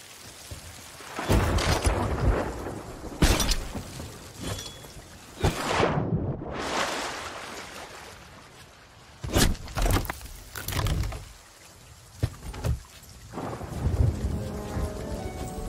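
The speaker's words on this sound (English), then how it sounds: "we're kind of in the middle of the storm right now" A thunderstorm with steady rain, heavy thunder claps and rumbles rolling in at intervals, several loud close cracks with quieter rain hiss between them, no voices.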